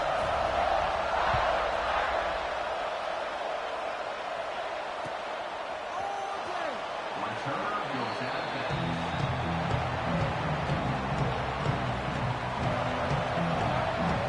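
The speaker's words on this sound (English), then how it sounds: "this crowd is buzzing after that last score" A stadium crowd in the College Football 26 video game keeps up a steady, buzzing roar after a score, with game commentary over it throughout.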